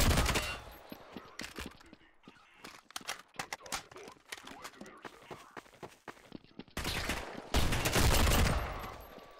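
Shotgun and other gunfire in Garry's Mod during a realism survival match, with dense rapid bursts of shots and sharp single blasts layered over one another, loud and close, with heavy sustained firing near the end.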